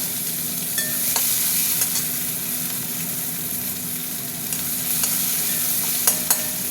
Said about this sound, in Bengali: পেঁয়াজটা একটু ভাজা ভাজা হয়ে আসুক